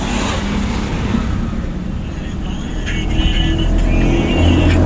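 A driving-school car pulls away after the hand brake is released during a lesson, its engine rumbling loudly and rising as it gathers speed, with road noise building toward the end.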